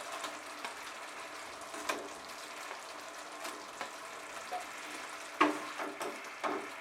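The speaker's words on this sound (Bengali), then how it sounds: "গ্রেভিটা ফুটে উঠলে আমি মাছগুলো দিয়ে দিলাম।" Katla fish pieces added to bubbling Bengali kosha gravy give a quiet, steady frying sizzle with soft crackles and a few sharper pops and stirs, with no talk.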